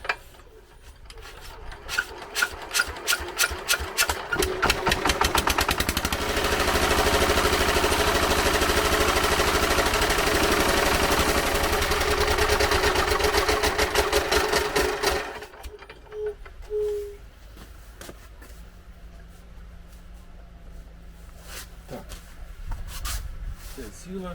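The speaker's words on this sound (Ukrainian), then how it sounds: "двигун завівся з першого разу, але його щось так трусить" A small R-195 diesel engine with a broken flywheel sputters into life, then runs at a loud, rattling idle with a rough, shaking rhythm before cutting out to quieter sounds and voices.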